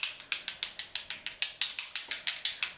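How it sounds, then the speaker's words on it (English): Rapid, evenly spaced crisp taps for an ASMR energy-clearing session, about five per second, each a bright dry click with a quick decay, close and alone without talk. "So I'm going to make some tapping sounds."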